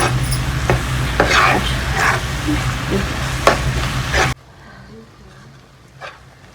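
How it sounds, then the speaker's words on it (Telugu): Two tomatoes' worth of tomato purée fries in hot oil in a home kitchen, with a busy sizzle and stirring scrapes for about four seconds before dropping to a quiet background. "ఈ టమాటా పచ్చివాసన పోయే వరకు కొంచెం వేయించుకోవాలి."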